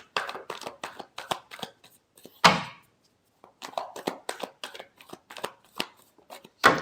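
Tarot cards are shuffled by hand in a quick run of crisp riffling flicks, then a single louder slap and a pause, then another rapid burst of shuffling. The sound is close and clear, with no talking.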